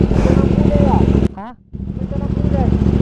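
A 2024 CF Moto 800MT adventure motorcycle engine running nearby, a steady loud idle-to-rev drone that cuts off briefly mid-clip as a voice speaks, then resumes.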